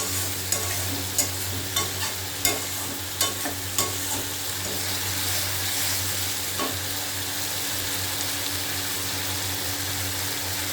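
Spice paste frying in oil in a pan, a dense continuous sizzle with a run of spatula scrapes and taps early on, close and loud, with no talk.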